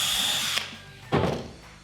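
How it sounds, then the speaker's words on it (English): A power drill pre-drilling wooden boards for a raised garden bed whines steadily for about half a second, stops, then a second louder burst of drilling bites into wood and trails off. "I'm pre-drilling just so that the boards won't split."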